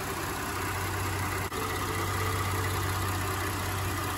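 A Ford F150 engine idles steadily with a constant low hum and drone, close and continuous, with one brief dip partway through.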